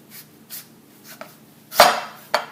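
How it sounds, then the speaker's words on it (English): A knife dices skinned fresh tuna into half-inch cubes for Hawaiian poke on a cutting board, giving a few sharp, separate chops with one louder thud near the end and quiet gaps between them. "Okay, time to dice this up."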